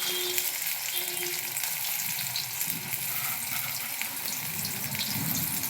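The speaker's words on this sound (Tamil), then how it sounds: "நல்லா பொரியிட்டோம். பாருங்கள், கலர் நல்லா சிவந்து வருது." Bitter gourd chips deep-frying in hot oil, giving a steady, dense sizzle and bubbling that holds evenly throughout, close and continuous, with no voices.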